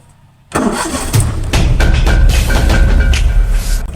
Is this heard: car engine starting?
yes